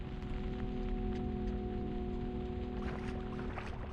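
Steady rain falling in the video game Nophenia, a constant soft hiss of drops under faint tonal background music, with no talking.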